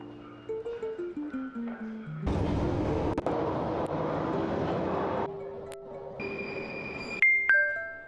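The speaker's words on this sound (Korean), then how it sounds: "독특한 런던의 지하철 튜브." A London Underground tube train gives a series of descending stepped motor tones, then a loud, steady rumbling roar of travel that cuts off into quieter tones and higher electronic beeps near the end, with no voices.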